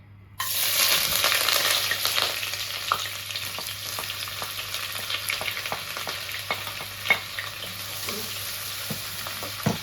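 Onions sizzle and crackle as they fry in hot oil in a pot for rice, a steady close-up hiss with scattered pops and a few faint stirring clicks throughout.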